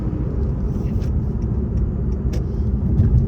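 A 2022 Honda Accord Sport Hybrid accelerates up a freeway on-ramp in Los Angeles traffic, its steady low road rumble and tire noise filling the cabin evenly throughout, with no talk.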